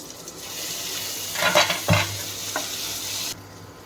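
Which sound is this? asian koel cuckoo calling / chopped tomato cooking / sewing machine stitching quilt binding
chopped tomato cooking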